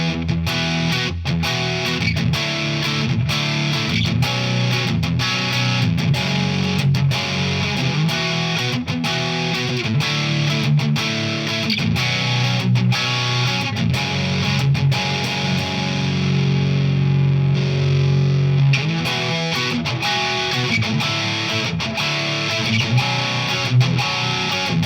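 An electric guitar plays through a Behringer OD300 overdrive and distortion pedal, producing loud, sustained, gritty chords and riffs that carry on steadily, with one brief held note near the end.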